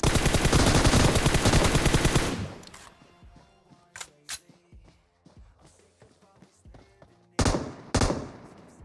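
A loud, rapid burst of M249 machine gun fire in PUBG Mobile, then quieter clicks and scattered shots, followed by two more short, heavy bursts.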